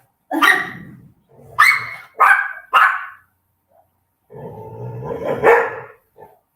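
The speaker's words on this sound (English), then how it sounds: "I got this little doggy." Small dog barking nearby, four sharp yappy barks in quick succession followed after a pause by a longer whining, growly bark and a short final yip, no talk.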